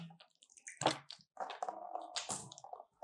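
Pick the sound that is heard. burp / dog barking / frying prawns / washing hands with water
washing hands with water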